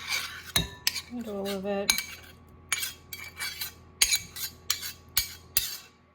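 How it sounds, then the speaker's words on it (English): Spoon scraping stringy pumpkin puree out of a container for scones, a run of close, uneven metallic scrapes and clinks with brief gaps between strokes, alongside a short stretch of humming tones. "Maybe scrape it out with the spoon."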